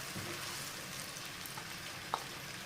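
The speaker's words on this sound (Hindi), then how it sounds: "अब इसमें जाएगा जी प्याज। ठीक है। प्याज का कच्चापन हम खत्म करेंगे" Onions fry in a pan after the chicken is taken out for an aloo chicken curry. A faint, steady sizzle runs throughout, with one small pop near the end.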